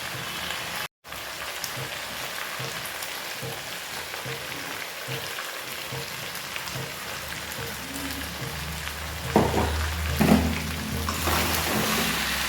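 Steady sizzling of mutton frying with spices in a pan, a dense crackle throughout, with a few louder scraping stirs toward the end.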